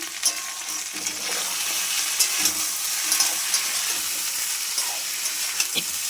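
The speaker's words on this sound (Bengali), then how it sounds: "তো ফুলকপি আর আলু এবার দিয়ে দিয়েছি।" Cauliflower and potato pieces fry in a hot pan, a dense, steady sizzle up close with occasional scraping stirs and small pops breaking through.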